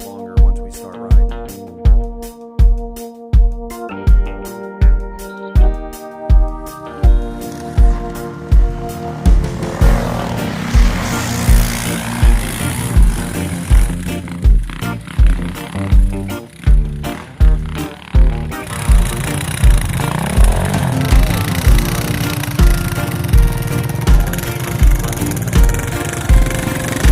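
Kawasaki KLX 650 dirt bike on a snowy test ride, the single-cylinder engine thumping in a slow steady idle rhythm before revving up into a loud, sustained droning roar close by.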